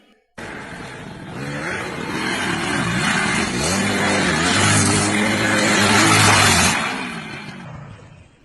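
A motorbike revs loudly and close by, the engine note rising and holding for several seconds before fading as the bike pulls away.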